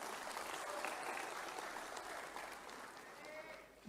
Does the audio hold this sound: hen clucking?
no